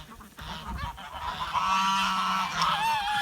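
Farmyard geese honk and squabble close by in the rain, with overlapping harsh honks that rise into a sustained noisy cluster of calls.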